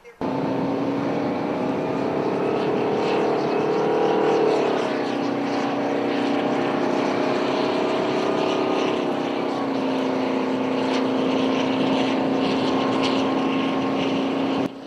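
A KC-135 tanker aircraft doing a touch and go: a loud, sustained engine roar with a steady droning tone that shifts slightly in pitch, heard continuously from nearby.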